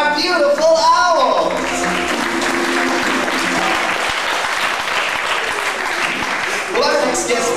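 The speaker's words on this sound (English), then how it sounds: "All we have to do now is have another round of applause for our beautiful owl!" Audience applause at a Busch Gardens owl show, a loud, dense burst of clapping from a crowd, with a voice heard briefly at the start and again as the clapping fades.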